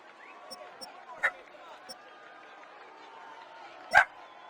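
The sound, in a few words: dog barking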